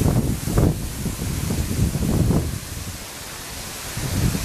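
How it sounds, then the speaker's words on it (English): Strong wind still gusting after a hurricane in Georgia, buffeting the microphone with deep, rumbling surges that swell and ease in waves, close and fairly loud, with no voices. "See how the wind and stuff still blowing?"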